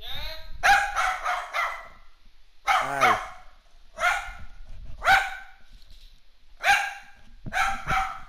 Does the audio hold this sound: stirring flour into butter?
no